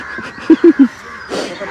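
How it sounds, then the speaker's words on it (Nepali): A crow gives three quick, harsh caws in a row, fairly close and loud, followed by a brief rustle and faint background noise. "कहाँबाट आयो यत्रो काग चाहिँ फेरि"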